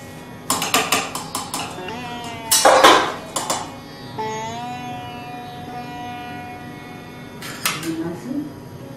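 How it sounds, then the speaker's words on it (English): Prepared food is served into deities' dishes as an offering, with clinking of plates and cutlery, several sharp taps and scrapes, and a ringing metallic tone, while a person talks between the sounds. "we take the food that we prepared and we dish it out into the deities' dishes"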